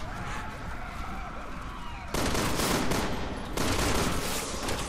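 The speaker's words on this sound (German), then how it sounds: "jetzt schießt sie da auf alle" Gunfire in the video game Resident Evil 6 comes as dense, continuous bursts of rapid shots under a busy game soundscape, growing louder in two stretches partway through.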